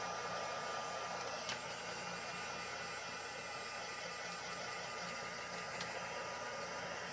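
A hair dryer blows steadily on a dip-dyed piece, a continuous loud whooshing hum with no break and no talking.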